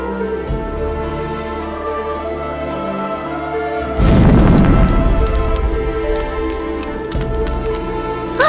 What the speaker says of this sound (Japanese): あ、すごい、火が吹けちゃうんだ。